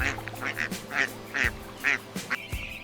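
Several ducks quacking in bursts, irregular calls overlapping at close range with some soft background activity between them.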